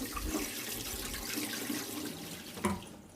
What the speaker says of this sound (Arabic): ده جزء تاني بحكه كده بالسكينة تحت المية